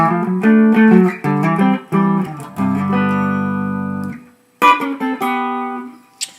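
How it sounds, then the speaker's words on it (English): Guitar riff of quick plucked notes building into a held, ringing chord, then a brief pause before the picking starts again. "let me show you the next little cool guitar part"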